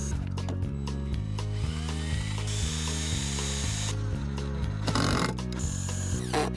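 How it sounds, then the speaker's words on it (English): Screws being driven to fasten strengthening pieces into a coffee table frame, with a steady mechanical ratcheting whir from a driver running continuously, loud and close, with a few sharper clicks and bumps near the end. "I'm now going to screw those in place"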